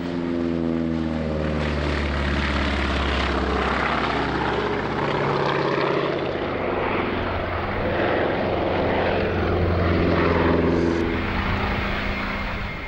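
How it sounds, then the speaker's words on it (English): Scottish Aviation Twin Pioneer twin-engine propeller aircraft flying at a Coventry airshow, its loud, steady engine drone filling the whole stretch with shifting propeller tones as it passes, no voices. "The Scottish Aviation Twin Pioneer, or Twin Pin as it was known to its crews, is a unique aircraft with very short takeoff and landing capabilities."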